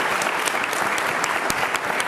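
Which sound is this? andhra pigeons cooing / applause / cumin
applause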